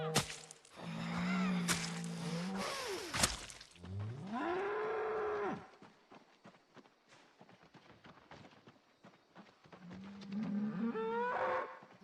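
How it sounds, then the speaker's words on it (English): A cow in the video game Project Zomboid lets out several long, loud moos, with two drawn-out calls early and another near the end, separated by a stretch of quieter rustling. "the zombies are being drawn by the noise of the cow"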